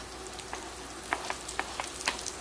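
Sliced cremini mushrooms fry in a pan, a steady low sizzle broken by a handful of sharp crackles and pops spread across a couple of seconds, with no talking.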